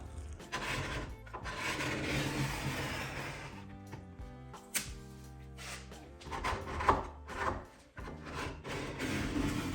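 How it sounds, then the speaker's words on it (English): Softened finish being scraped off wooden furniture with a hand scraper after a stripper has soaked in, producing close, repeated rasping strokes with short pauses between passes. "so I'm gonna scrape it off."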